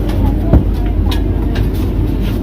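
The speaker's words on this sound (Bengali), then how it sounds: "আমাদের বন্দে ভারত ছেড়ে দিল" A Vande Bharat express train departs from the Siliguri (NJP) platform with a low, steady rumble heard from inside a coach, under people talking nearby.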